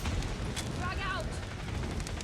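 In a multiplayer shooter video game, a frag grenade detonates in a short dull boom amid the ongoing crackle of gunfire and battle noise, while game voice callouts are heard over it.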